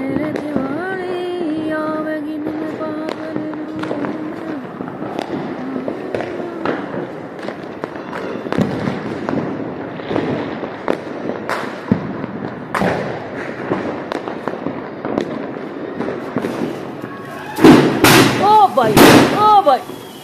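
Diwali fireworks and sky shot firecrackers pop and thump repeatedly at varying distances, ending in a cluster of loud, close bangs, while people talk and shout throughout.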